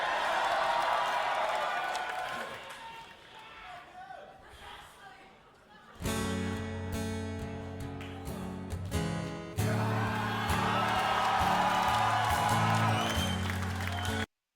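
A concert crowd roars and cheers loudly as a band begins the acoustic version of a song, the noise dropping under the first guitar chords, then swelling again into sustained cheering and applause over the music.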